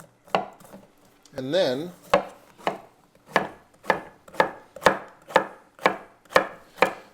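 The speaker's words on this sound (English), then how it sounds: "all you have to do is just take a second, peel it a little bit" A knife peels and cuts through broccoli stems on a board, giving a series of sharp, evenly spaced chopping knocks, close and clear, with a brief scraping peel near the start and a couple of spoken words.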